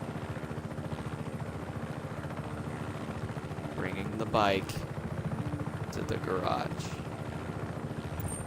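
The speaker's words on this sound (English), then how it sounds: "land the helicopter" A helicopter's rotor chops steadily in the Just Cause 3 video game as it lands, a constant pulsing drone under a person speaking excitedly over it.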